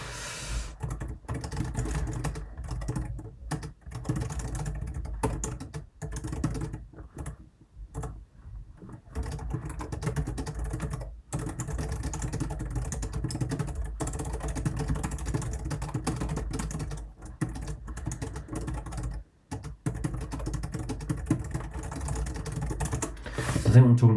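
Steady computer keyboard typing clicks run continuously at moderate level, with a few short pauses, while a voice talks over it.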